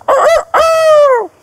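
A person imitates a rooster crowing: a loud, close, two-part cock-a-doodle-doo with a short first phrase and a long, drawn-out falling second call.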